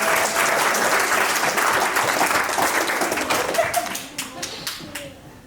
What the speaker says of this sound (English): Give a round of applause to Chris.